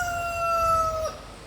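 A rooster on a farm on a rainforest property crows once in a long, clear, sustained call that drops off abruptly. There is steady background noise behind it.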